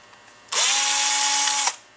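A power drill spins to remove screws from a Fispa SUP150, one steady whirring burst of just over a second, close and clear, that starts and stops abruptly against quiet.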